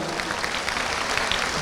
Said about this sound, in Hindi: पूरे लखेरा समाज के लिए भी जोरदार ताली बजाओ